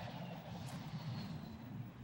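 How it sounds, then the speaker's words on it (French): A faint, steady airplane engine drone from a cartoon plays quietly, a soft continuous rumble without speech. "il y a un avion qui arrive"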